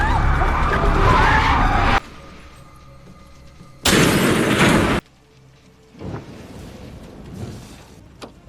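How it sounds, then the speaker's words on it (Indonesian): A car in a film crash scene skids out of control before rolling down a hill, with loud bursts of tire and crash noise cut between quieter stretches and scattered impacts, no speech heard. "hingga akhirnya mobil mereka kehilangan kendali dan terguling ke bawah bukit"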